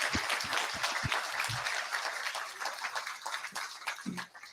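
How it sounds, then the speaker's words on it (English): An audience at a talk claps in a sustained burst of applause, dense and steady at first, then thinning out toward the end. "Let's give the Suzy another round of applause."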